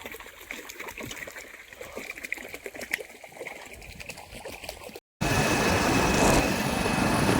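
A farm water pump driven by a ten-horsepower electric motor runs with a steady high whine as water trickles and splashes; the sound cuts out briefly and then returns louder and nearer.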